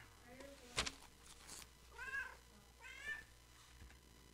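Kiki the cat meows nearby, several short meows spaced across a few seconds against a quiet room, with a brief sharp knock between them.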